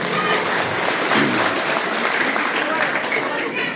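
An audience at a speech about Moran history and identity claps for the Moran student union, a thick continuous wash of applause throughout, with some voices mixed in underneath.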